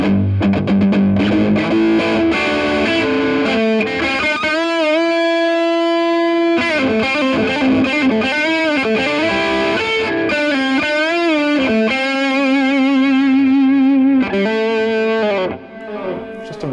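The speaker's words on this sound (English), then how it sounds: "Good guitar. It's just a great guitar, great amp." Electric guitar played through an amplifier with heavy distortion, sustained chords and bending lead notes ringing loud and continuous without pause.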